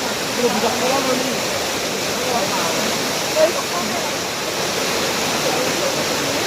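Fast floodwater rushes past in Depok during a 2019/2020 flood, a loud continuous roar with a voice faintly under it.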